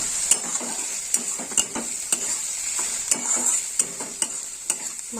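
Onions fry in a pan with a steady bright sizzle while a spoon stirs them, scraping and tapping the pan in sharp, regular strokes about twice a second.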